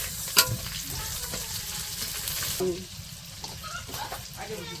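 Steady sizzling of small tengra fish frying in a pan, with a few clinks and scraping stirs and some faint talk underneath.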